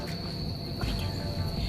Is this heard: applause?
no